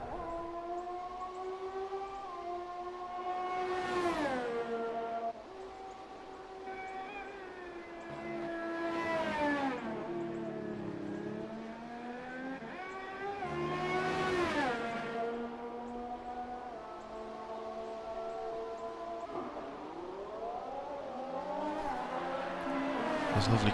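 Toro Rosso Formula-style race car lapping Suzuka in a racing video game in pouring rain, its engine whining up through the gears and dropping on braking in repeated sweeping pitch rises, loud and continuous.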